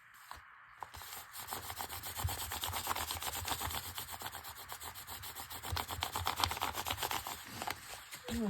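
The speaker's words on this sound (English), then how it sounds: "A little rub down just gives it a little warmth to help it stick" A decorated paper envelope being rubbed down by hand, a close, soft but continuous scratchy friction with quick back-and-forth strokes.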